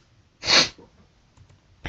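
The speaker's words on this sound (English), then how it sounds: "let me sneeze" A single sharp sneeze bursts out close to the microphone, followed by quiet breathing and a brief sniff.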